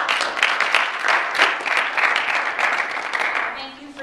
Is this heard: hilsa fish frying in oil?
no